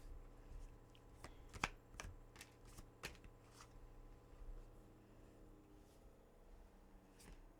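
Tarot cards are shuffled by hand close up, quiet riffling and sharp slapping snaps in an irregular rhythm over a low steady hum.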